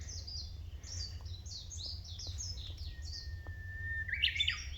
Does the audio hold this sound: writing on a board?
no